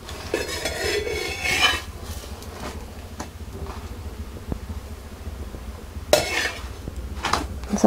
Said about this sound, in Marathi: आपल्याला सारखं पलटी करून करून आपल्याला हे छानसं चपाती भाजून घ्यायचंय